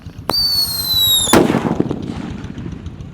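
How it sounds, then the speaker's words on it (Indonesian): A jumbo Pearl Thunder firecracker first shoots out a rising, whistling shriek near the start. It ends in one sharp, loud bang about a second later, followed by a fading crackle and outdoor rumble. "di sini yang lebih jumbo namanya Pearl Thunder yang akan kita nyalakan"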